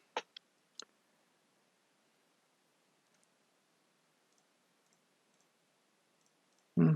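Keyboard keys click a few times in quick succession at close range, then near-silence with faint ticks, and a final louder keypress thump at the end.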